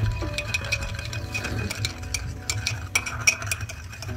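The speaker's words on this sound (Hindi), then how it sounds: "इसको अच्छी तरह से मिक्स कर देंगे" A spoon stirs yeast, sugar and warm water in a bowl, with soft repeated scraping and light clinks against the side, close and steady.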